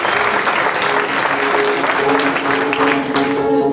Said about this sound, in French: On l'applaudit très fort pour l'encourager,